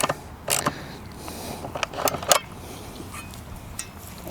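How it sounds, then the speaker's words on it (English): A 13mm socket or spanner tightening nuts on a solar electric fence energizer mount, scattered metallic clinks and ratchet scrapes over a hissy outdoor background, close and moderately loud. "Tweak them up with a 13mm socket or spanner."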